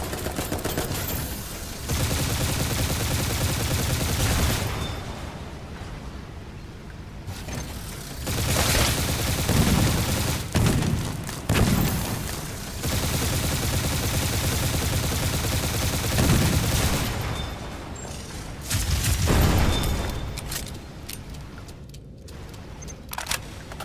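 Repeated bursts of video game gunfire in Dolls Nest on hard mode, loud and close, firing in several sustained volleys with short pauses between them.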